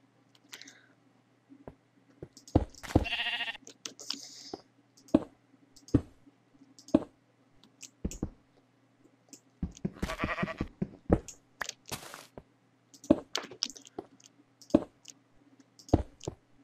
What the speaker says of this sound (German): Ja, Schafe.